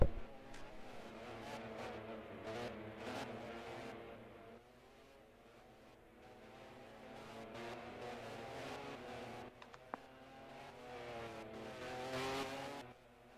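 Race cars rumble and rev as they roll into the pits in a Formula racing game at South Africa, engines swelling and fading at a distance, fairly faint with no talk.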